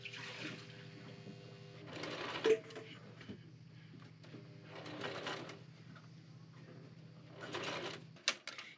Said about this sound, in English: I've been really pleased with this sewing machine.